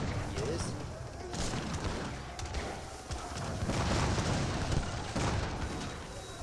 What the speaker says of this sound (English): This heavy cannon gains some good hits on the falconets.